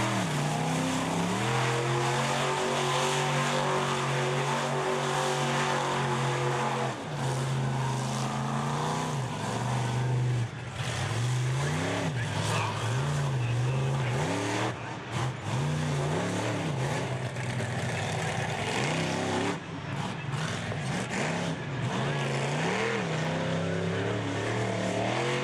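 General Tire monster truck driven by Dale Girding roaring through a freestyle run at Indianapolis, a loud sustained engine with rising and falling revs, heavy bursts of throttle and constant crowd-arena wash, no talk audible.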